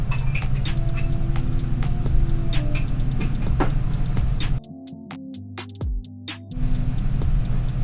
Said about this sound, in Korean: 세탁기 소리가 여기까지 너무 잘 들리죠?